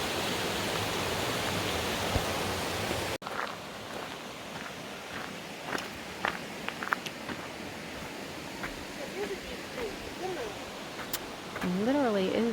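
The clear water of Deep Creek in the Smoky Mountains rushes steadily, loud and close at first and then softer, with faint voices and small sounds over the flow.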